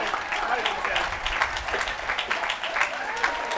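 Warm applause fills a hall at an academic award ceremony for teaching excellence, dense clapping from a sizable audience at close range, steady throughout with light crowd murmur underneath.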